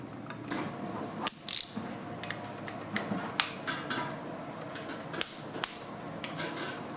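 Ratchet wrench clicking on the bolts of an LQ4 6.0-liter LS engine during assembly, with scattered short ratcheting clicks and metallic taps over a low background, near and moderately loud.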